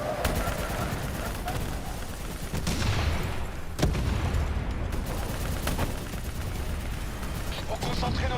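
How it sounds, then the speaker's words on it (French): Rapid gunfire and bursts from a Call of Duty Black Ops 3 campaign battle crackle in dense, overlapping volleys with a couple of heavier booms, alongside in-game voices. "Faut concentrer nos tirs sur cette nave."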